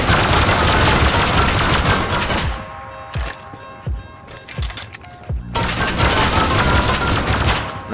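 An auto turret firing in the survival game Rust, loud rapid bursts that break into a quieter stretch of a few separate heavy shots before the steady fire returns.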